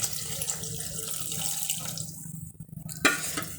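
Steady rush of water pouring into a metal pressure cooker, filling continuously and close by, with a brief clank near the end.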